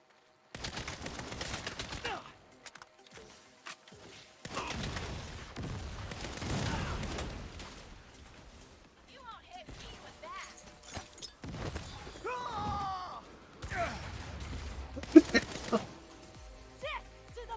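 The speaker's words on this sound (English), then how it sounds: "Now they're throwing grenades at the wall." Grenade explosions bursting against a wall in the video game Saints Row, several loud separate blasts with gaps between them, plus mixed game effects and chatter.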